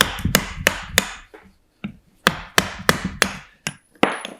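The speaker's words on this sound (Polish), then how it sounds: "wziąć po prostu dłuto i przynajmniej właśnie te największe części bielu po prostu odłupać" A chisel struck with a hammer, splitting sapwood off a solid wood bowl blank: about ten sharp, loud knocks in an irregular rhythm, each with a short woody ring, alone and close by.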